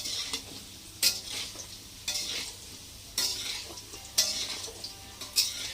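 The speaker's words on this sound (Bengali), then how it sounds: "আলু ভাজছিস এখন?" Potatoes frying in a pan in a home kitchen, with a steady sizzle broken by about five sharp scraping stirs of a utensil at roughly one-second intervals, close and moderately loud, no talking.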